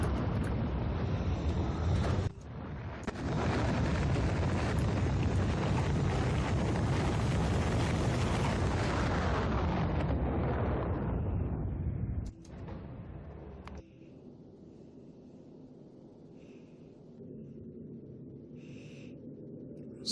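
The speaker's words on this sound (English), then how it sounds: "there goes the second rocket" A rocket launching in the video game Factorio Space Age, a loud sustained roar that swells and rises for about ten seconds, cuts off abruptly, then settles into a quiet low hum.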